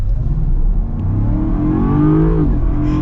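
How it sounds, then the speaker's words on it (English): A supercharged V8 in a 2023 Land Rover Defender Carpathian Edition revs loudly and close by, its engine note rising steadily and then dropping back, with supercharger whine over the deep rumble. "When I was revving it, you could actually hear the supercharger pretty well"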